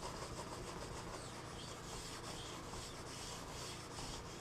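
Sandpaper rubs down a raised latex paint edge in a steady, close, continuous scratchy hiss with no pauses and no voices.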